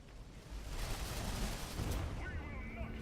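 Heavy weapons fire from Space Marine Devastators in Dawn of War III, a dense rumbling barrage of rapid shots and impacts lasting a few seconds, moderately loud within busy battle ambience.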